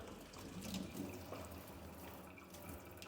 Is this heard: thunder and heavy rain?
no